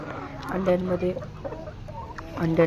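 Laying hens clucking in short bursts, a few calls close by against a low background murmur.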